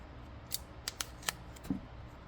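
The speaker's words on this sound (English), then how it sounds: "we do offer these nice foam adhesive pads. You just trim off that excess." Scissors snipping off the excess edge of a foam adhesive pad during assembly of a Clampinator T-10, several crisp separate cuts at close range, quiet and alone.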